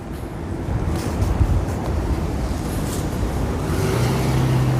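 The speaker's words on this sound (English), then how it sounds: "Not sure if you guys can hear it over the microphone here with the wind muff on, but it is windy." Wind buffeting a microphone fitted with a wind muff outdoors in New York City, a steady low rumble with gusty swells and faint traffic hum beneath.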